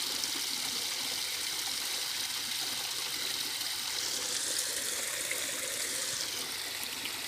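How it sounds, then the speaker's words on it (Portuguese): Sewage water pours off a ledge onto a sidewalk like a small waterfall, a steady trickling splash heard close and alone with no voices. "O cara achou um bosteiro, tá achando que é uma cachoeira."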